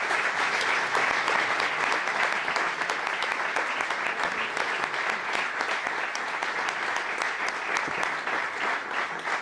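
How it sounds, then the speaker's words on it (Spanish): A large audience at a gastronomy and culture panel applauds in dense, sustained clapping that fills the whole stretch at a steady loudness, with no voices standing out. "os pido un aplauso para ello"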